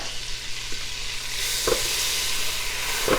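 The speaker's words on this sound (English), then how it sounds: "the butter's melting really fast" Steady frying sizzle of butter melting in a pan, with a constant hiss, a couple of faint clinks of a utensil against the pan, no talking.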